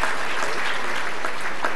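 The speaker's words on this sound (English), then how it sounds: "Round of applause." Audience applause at a Carlton Football Club best and fairest awards night: dense, loud, continuous clapping from a large crowd filling the room.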